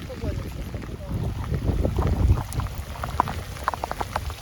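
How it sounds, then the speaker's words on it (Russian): Heavy rain pours down at a feeder-fishing spot on the water, a dense close hiss scattered with sharp individual drop taps. "Сильный дождь."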